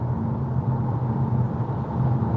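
Inside a Ford Puma being driven: a steady low rumble of road and engine noise fills the cabin, even and continuous, with no talking.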